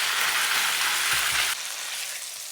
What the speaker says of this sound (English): we got some butter in the pan, nice and hot. We're gonna sear it for about 2 minutes each side.